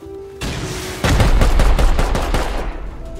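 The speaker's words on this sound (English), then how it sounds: "I'm gonna rocket it right now." A rocket launcher fires in a video game, followed by a loud, dense run of gunfire and blasts that carries on continuously for about three seconds.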